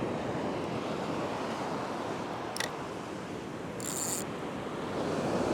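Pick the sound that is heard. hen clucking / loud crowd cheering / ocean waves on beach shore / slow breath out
ocean waves on beach shore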